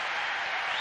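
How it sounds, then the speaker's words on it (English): Tennis crowd applauding during a fourth-round night match at the 1999 US Open, a dense, steady wash of clapping from a large stadium audience with no voices on top. "Vincent Spadea, the crowd, getting right behind him"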